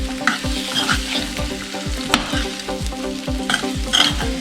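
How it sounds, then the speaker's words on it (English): Grilled potatoes being stirred into a pan of Bombay saag aloo, with repeated scraping strokes of a spoon and a steady sizzle underneath, close and fairly loud, no voices. "Now I'm adding the grilled potatoes inside. Mix it in."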